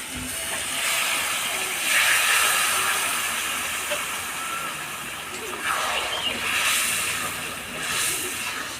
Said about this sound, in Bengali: গরম জল দিয়ে হালকা হালকা করে জল দিয়ে আমি এই মটনটাকে কষাবো